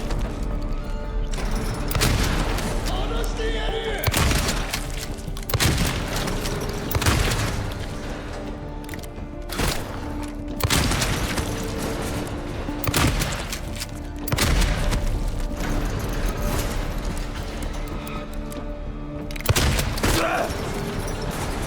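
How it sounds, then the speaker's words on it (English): A shotgun in Silent Hill 2 Remake fires repeatedly: about eight or nine heavy, close blasts spaced a couple of seconds apart, each with a brief ringing tail over a constant droning background. "Okay, shotgun will destroy it."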